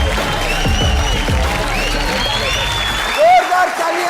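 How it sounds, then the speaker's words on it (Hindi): Studio audience applause greets the winner of Bigg Boss 17, a dense, steady wash of clapping and crowd noise throughout, with a presenter's voice speaking over it and a brief vocal rise near the end. "एक बार जोरदार तालियों के साथ स्वागत कीजिए मुनव्वर फारूकी का"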